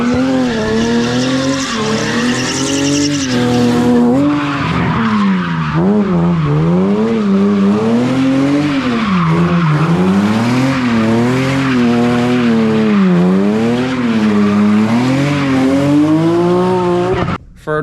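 A customer's car drifting on night streets, its engine revving hard in rising and falling sweeps under a continuous loud tire squeal that carries on for most of the run before cutting off abruptly.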